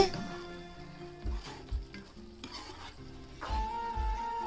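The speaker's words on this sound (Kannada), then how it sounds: "ಇವಾಗೆಲ್ಲ ಚೆನ್ನಾಗಿ ಮಿಕ್ಸ್ ಮಾಡ್ಕೋಬೇಕು" Mushroom masala with coconut and cashew paste being stirred in a pan, with soft scraping and occasional clinks of the spoon against metal, a faint sizzle beneath and a voice talking at times.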